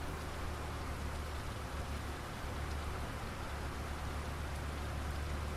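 Steady rain effect in the snow-plough and road-maintenance game Road Maintenance Simulator 2, a continuous, even hiss of rainfall with a low rumble beneath, no voices over it.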